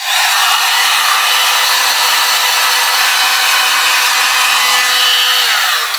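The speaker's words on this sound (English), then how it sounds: "So be very careful with the heat gun." A heat gun chars wood for wood burning, giving off a loud, steady blowing roar close to the listener for several seconds with no pauses.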